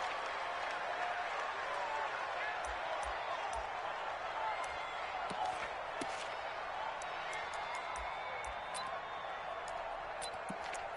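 Football video game stadium crowd roaring steadily in the background, a broad continuous cheer with occasional thumps, under commentary talk.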